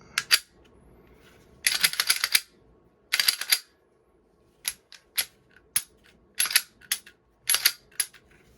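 Sharp metallic clicks and snaps from handling a Smith & Wesson M&P 9 Shield Plus Performance Center pistol, heard as several short bursts and single clicks, close and crisp against near silence.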